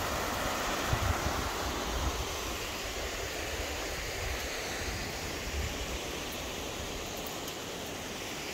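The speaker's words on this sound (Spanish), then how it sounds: "de Calicanto de Corongo con la pequeña catarata, muy bonito, muy que irradia paz. El sonido del agua siempre es muy bonito," Water from a small waterfall at Calicanto in Corongo rushes in a constant broadband roar, steady and fairly close, with no voices over it.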